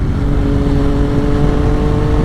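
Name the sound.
2005 Triumph Sprint ST motorcycle engine through triple exhaust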